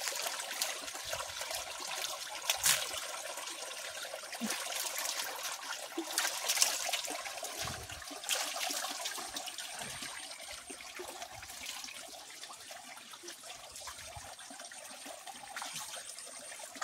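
Waterfall water at Kiajhar near Saptasajya in Dhenkanal pours and splashes steadily, a broad continuous rushing hiss that stays fairly loud and close for the whole stretch with no talking over it.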